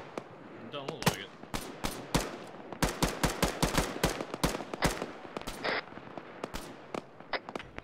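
Gunfire in the video game Arma 3 crackles in rapid sharp bursts and single shots, loud and close, with distant pops and brief radio-style voices between volleys.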